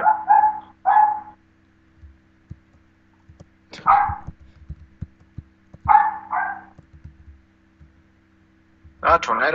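A dog barks in several bursts of two or three sharp yaps separated by pauses, fairly close, with low clicks and hum in the background.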